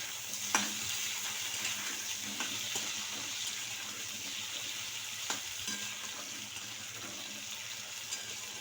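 Cut potato pieces crackle and sizzle steadily in hot oil, a continuous bright frying hiss with a few sharper pops and scraping stirs, close and moderately loud with no talking.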